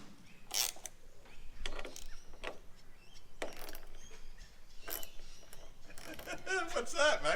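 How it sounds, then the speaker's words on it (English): A Toyota Landcruiser 80 Series handbrake ratchets with clicking, mechanical pulls amid scattered clunks and rattles; close and moderately loud. "That's a Landcruiser handbrake for you."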